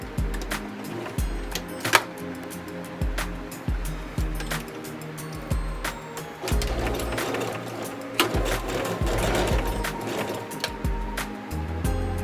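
A sewing machine runs a 1/4 inch guide stitch along the hem of a wrap dress, giving off a rapid mechanical chatter in short bursts and longer runs with brief pauses and handling clicks.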